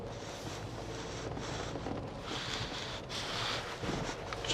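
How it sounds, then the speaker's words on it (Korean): A used mid-size sedan with 100,000 km on it, accelerating on a test drive, gives a steady broadband cabin rumble and road or wind roar that swells slightly, with no talk. "하체 소리 나나 안 나나 또 주행 성능 또 밟아 봐야죠"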